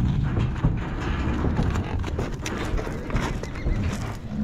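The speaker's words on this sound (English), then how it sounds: "The last of the horses to unload were Lady, Patty, and Jesse." Horses unload from a trailer while moving to a new pasture, with shuffling hooves and clopping on the ramp and ground amid wind noise and rough outdoor handling sounds, close and fairly loud.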